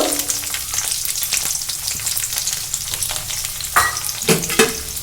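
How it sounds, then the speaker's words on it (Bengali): Two medium onions, finely chopped, hit hot oil in a pan, giving a loud crackling sizzle with scraping stirs and a few louder bursts toward the end. "এই যে এই পেঁয়াজটা কিন্তু আমি তেলের মধ্যে দিয়ে দেব"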